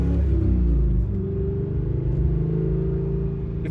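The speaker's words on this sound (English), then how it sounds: "The burbles, the downshift burbles in your butt feels so cool." A Chevrolet Corvette C5 fitted with a Hooker Blackheart exhaust, not fully warmed up, rumbles and burbles on deceleration during downshifts, a deep, loud, throbbing exhaust note heard close up.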